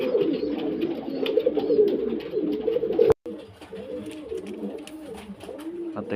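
Male Girebaaz pigeons coo in soft, rolling, repeated calls close by, with a brief dropout midway before the cooing resumes alongside other faint bird sounds.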